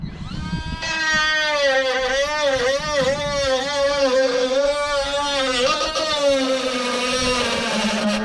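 A Parkside power cutting tool slices through metal on a cold day's Morris Marina repair, throwing sparks. It makes a loud, sustained high whine that wavers in pitch as it bites into the metal.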